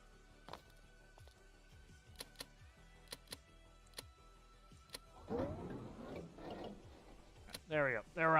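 In the Stormworks game, twelve-cylinder boat engines crank with a regular ticking starter rhythm, then catch and rumble to life near the end, with a voice briefly speaking over the start-up.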